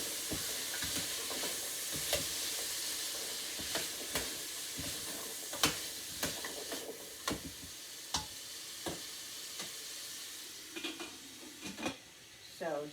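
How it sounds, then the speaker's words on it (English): Carrot soup is stirred in a pot, a spoon scraping and tapping against the pot in irregular clicks over a soft, continuous simmering hiss, fairly quiet and close. "So just stirring every once in a while to make sure that it nothing burns."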